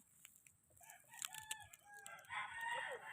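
Chickens cluck and a rooster crows nearby, the calls rising toward the end over a quiet background.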